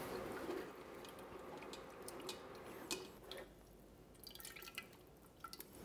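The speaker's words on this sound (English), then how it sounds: "I want to move it around just a little bit so that I can strain all the liquid out of this vegetable matter that's in here" Tomato soup liquid drips from roasted vegetable matter pressed in a strainer, a faint, steady patter of small drops with a few sharper ticks near the end.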